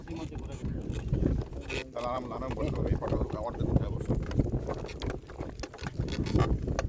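A wooden trawler boat chugs along the Jamuna river near Balashi Ghat, its engine and water noise forming a steady rumbling bed with wind buffeting the microphone, while people talk nearby.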